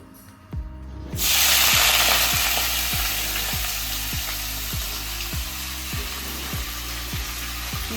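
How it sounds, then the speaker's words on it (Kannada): Fresh spinach (palak) hits hot ghee in a pan with a sudden loud sizzle that settles into a steady, close frying hiss, marked by a regular low thumping rhythm of stirring underneath; no one speaks. "ಮೊದಲು ನಾವು ತುಪ್ಪದಲ್ಲಿ ಪಾಲಕ್ನ ಸ್ವಲ್ಪ ಹಸಿ ವಾಸನೆ ಹೋಗೋವರೆಗೂ ಫ್ರೈ ಮಾಡ್ಕೋಬೇಕು"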